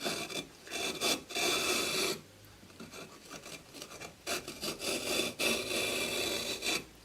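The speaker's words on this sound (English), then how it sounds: "if you cut those lines out with the pad saw" Pad saw rasping through a soft kiln brick to cut out channels, a steady scraping in bursts with a short pause midway, close and fairly loud.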